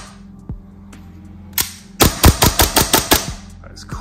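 A Novritsch SSP5 airsoft pistol fires near and loud: a few single shots, then a quick run of about seven sharp evenly spaced cracks.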